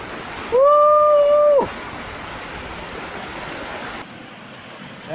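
The rushing water of Khoiyachara waterfall makes a dense, steady roar up close. A brief high whistle-like tone cuts across the roar near the start.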